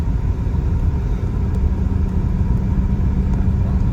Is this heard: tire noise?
yes